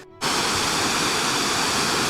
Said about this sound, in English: So I'm heading up to the top of the waterfalls up there, and then onwards.